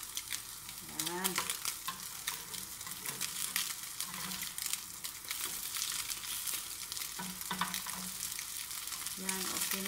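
Sliced bread frying in butter in a non-stick pan gives a steady close sizzle, with scraping stirs and faint background noises throughout.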